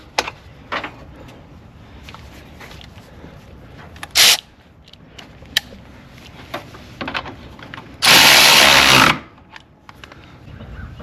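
A power tool tightens the water pump cover bolts on a Dodge Ram 2500 with a 5.7L Hemi, giving a short whirring burst and then a longer loud one, with scattered clanks of tools between them.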